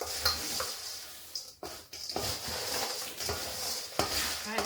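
Trail mix with pepper flakes being stirred in a bowl, a run of close rustling, scraping strokes with a few short clinks of the utensil against the bowl.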